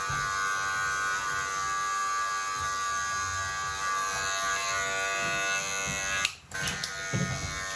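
Electric hair clippers buzz steadily through a short back and sides haircut, a continuous close hum that is briefly interrupted near the end as the lever is adjusted.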